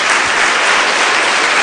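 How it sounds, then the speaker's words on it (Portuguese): A church congregation claps steadily in a dense, continuous wash of applause during a Portuguese-language worship service, loud and even throughout with no voices standing out. "Dê uma salva de palmas a Jesus"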